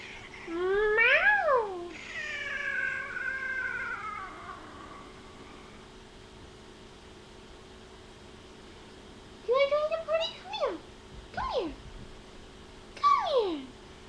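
Several cat meows: a long drawn-out one at the start, then a quick series of short, rising mewls later, fairly close with faint background hiss.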